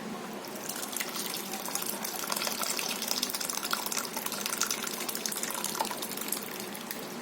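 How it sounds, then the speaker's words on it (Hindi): Whey water drains and splashes steadily through a cotton cloth over a strainer and bowl as chhena is strained for sponge rasgulla, a continuous close gushing with no talk. "छेना को अब हम छान लेते हैं। तो एक बाउल पर हम छन्नी रखेंगे और इसके ऊपर रखेंगे हम ये कॉटन का कपड़ा।"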